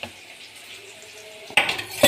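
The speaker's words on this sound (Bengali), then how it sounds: "চামচ দিয়ে নেড়ে দিলাম" A spoon stirs a chili powder spice mix in a bowl: near-silence, then a brief burst of close metallic scraping and clinking near the end.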